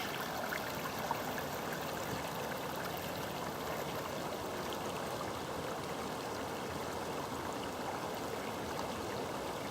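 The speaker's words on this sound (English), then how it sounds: "A beautiful sound of trickling water." Steady trickling water of a stream, continuous and even, with no voices.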